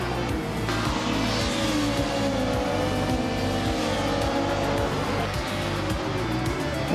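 Group C race cars roar around a technical circuit in a racing video game, engine notes loud and sustained with repeated pulsing shifts and passes layered throughout.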